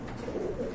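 A pair of maxi-colored pigeons, offered for sale, give a faint, brief coo against a noisy background.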